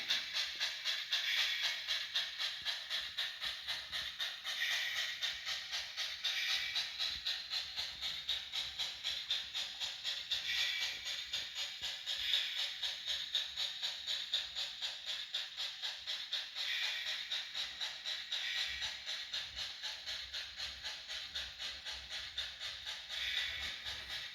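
A model train runs steadily with a continuous hiss and soft rhythmic clicking of wheels, no voices, sustained throughout.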